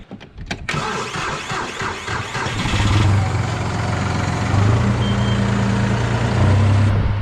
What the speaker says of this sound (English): Let's get this tractor started.